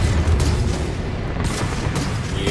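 Grenade explosions in the video game Necromunda: Hired Gun, a dense, continuous barrage of heavy booms and blasts that fills the whole short stretch at high volume, with no voices.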